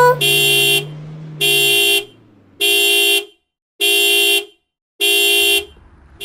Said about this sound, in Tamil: வீட்டு முன்னாடி கார் ஹாரன் சத்தம் இப்படி கேக்குது